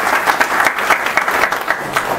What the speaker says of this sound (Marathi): सगळ्यांनी एकदा टाळ्या वाजवत त्यांचं.